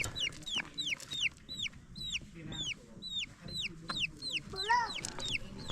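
Wild labuyo junglefowl give repeated short, rapid clucking calls close by in a cold mountain setting, with faint background noise and a few calls overlapping.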